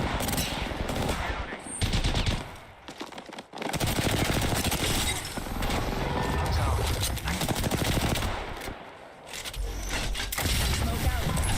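Rapid automatic gunfire in the Apex Legends video game comes in dense bursts, broken by a few brief pauses, with a voice talking over the shooting.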